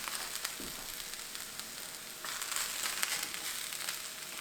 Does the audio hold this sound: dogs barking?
no